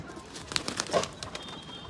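Pigeons kept at home make soft, low coos, with a few brief chirps and a faint flutter of wings close by in a quiet space.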